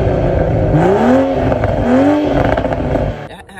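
A stock 2023 manual Toyota Supra engine revving twice, pitch rising and falling in smooth sweeps, loud and close, then dropping off with a few crackles at the end.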